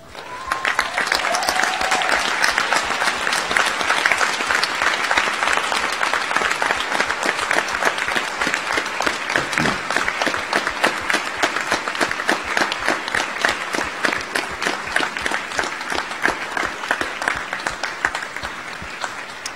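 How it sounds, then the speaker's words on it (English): A graduation audience at Monash Malaysia rises and applauds at length, a dense, steady wash of many hands clapping filling the hall for nearly twenty seconds without letting up. "express your gratitude by a round of applause"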